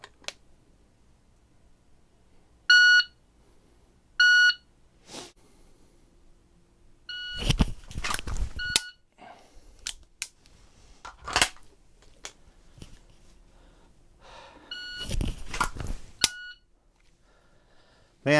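A Competition Electronics Pocket Pro 2 shot timer gives sharp, high electronic beeps, two short ones near the start and more later. Loud, clattering bursts follow the beeps at a pistol practice session with a Kimber 1911.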